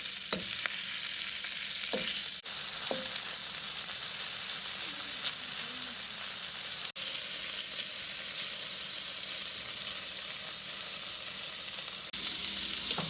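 Seasoned shrimp frying gently in a pan over moderate heat, a continuous soft sizzle with a few light clicks and scrapes of stirring, no talking.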